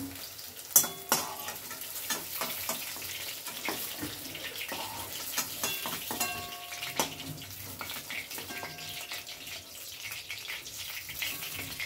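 Soya chunks frying in hot oil in a home kitchen, a steady sizzle with scattered sharp clinks and scrapes of a utensil stirring, no voices.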